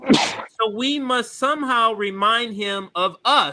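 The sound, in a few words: sneeze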